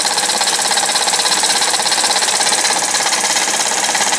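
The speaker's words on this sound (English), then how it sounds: "And there it is, with a full head of steam." A homemade horizontal steam engine chugs under a full head of steam at about 10 psi, producing a loud, rapid, unbroken rattle of exhaust puffs and metallic clatter over a steady hiss, heard up close.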